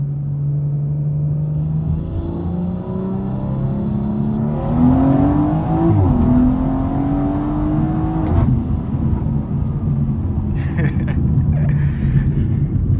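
A BMW 340i running on E40 race gas accelerates hard, its engine note climbing steadily and loudly in pitch, with a brief shift and then a second strong pull as the car speeds up.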